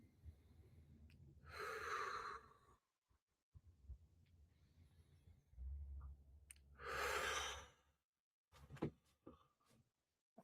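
Two slow, deep breaths taken during neck stretches, each a long audible inhale followed by an airy exhale, close and quiet with faint rustling between them.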